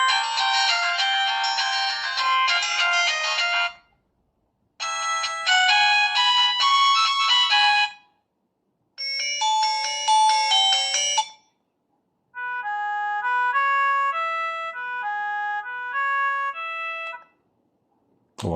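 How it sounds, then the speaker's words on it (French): Four simple electronic ringtones from a basic 2G mobile phone play one after another, each a short bright looping melody separated by brief silences, the last one sparser and tonal. "Donc vous pouvez changer la sonnerie ici."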